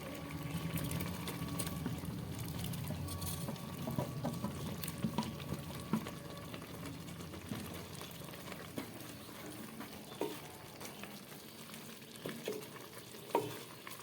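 Boiled moong dal stirred into boiling vegetables for Bengali khichuri, with a soft steady bubbling and sizzling broken by scattered clinks and scrapes of a spoon against the pot.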